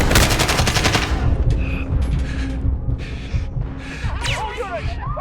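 Rapid automatic weapon fire in the Modern Warfare video game rattles in a dense burst at the start, followed by scattered sharp shots and mechanical clatter, loud and close.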